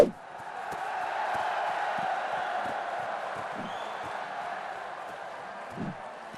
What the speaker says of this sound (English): when your player hits the ball, the crowd wakes up.